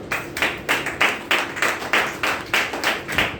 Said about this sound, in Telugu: ఒకసారి చప్పట్లు కొట్టండి అందరూ